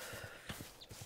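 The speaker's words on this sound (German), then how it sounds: "Dann sind Pferde." Minecraft horses walking, a quick faint clip-clop of hooves in an even rhythm, heard alone without talk.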